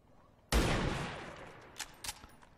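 Gunfire aimed at a turret in XCOM 2: one sudden loud blast opening into a long rolling, decaying roar, followed by two fainter short bursts near the end.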